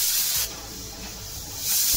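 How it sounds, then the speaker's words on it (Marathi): A home pressure cooker lets off a loud steam hiss from its whistle, starting sharply, easing for about a second, then surging back to full force with no talking. "इथे आपल्या कुकरच्या शिट्या सुद्धा झालेल्या आहेत"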